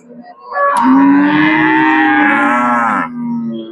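A cow at a cattle market gives a single loud, close moo lasting about two and a half seconds, followed by fainter background murmur.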